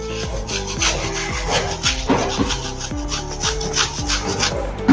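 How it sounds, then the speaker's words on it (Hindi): Cheese is grated by hand over a dish, with quick rhythmic rasping strokes, close and fairly loud, repeating steadily with no talk. "अभी इसमें हम चीज़ डालेंगे। थोड़ा सा कद्दूकस करके"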